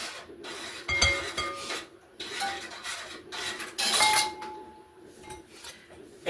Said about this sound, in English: now I gotta remember to keep stirring this cheese sauce